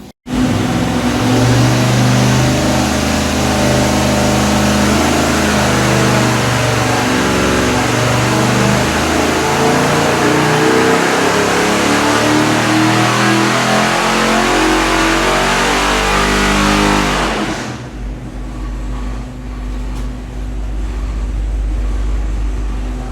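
A Street 540 big-block engine in a car on a dyno runs loud and close in one long sustained pull that climbs for about seventeen seconds, then cuts sharply to a lower, rumbling run-down.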